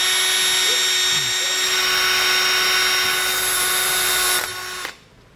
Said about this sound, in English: Now that I have my mark, I can drill through.